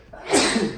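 A single sharp human sneeze during a drag makeup session, close and fairly loud, building quickly and trailing off within a second.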